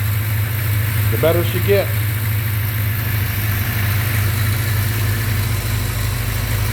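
A 1982 Suzuki GS1100L motorcycle engine runs at a fast idle around 1500 rpm, a loud, steady, close drone with a low throbbing pulse, while someone speaks briefly over it.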